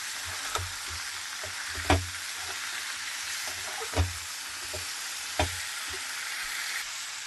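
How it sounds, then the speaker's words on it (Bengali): Masala with turmeric and salt fries in oil, a soft, steady sizzle close by punctuated by a few sharp knocks of a spoon stirring against the pan. "এবারে ভালো করে আমি এটাকে কষিয়ে নেব"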